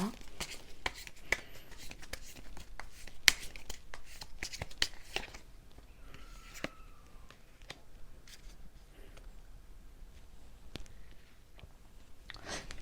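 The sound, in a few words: tarot cards being handled for an advice card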